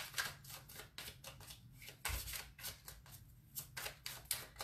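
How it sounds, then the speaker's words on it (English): Tarot cards are shuffled by hand close up, giving soft, quick riffling and flicking bursts in an irregular rhythm within a quiet room. "I'm going to go ahead and shuffle and I'm going to get a few cards"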